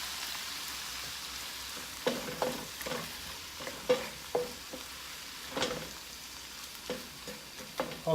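Fresh tomato sauce simmering in a pan on lowered heat: a soft steady bubbling hiss with scattered brief clicks and scrapes of stirring, moderately near and quiet, with no voices.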